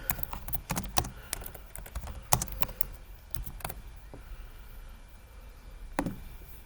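Fingers type on a computer keyboard, a close run of sharp clicks in uneven bursts, with a short pause before a final pair of keystrokes.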